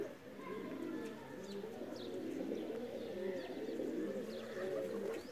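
Continuous low, throaty cooing from several Pakistani chapra pigeons close by, overlapping and rolling, with faint chirps in the background.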